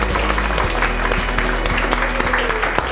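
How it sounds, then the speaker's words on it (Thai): A crowd at a board game competition claps for the winning team: dense, loud, continuous applause from many hands, with some voices underneath. "ขอเสียงปรบมือกับทีมซินนามอนโรลด้วยครับ"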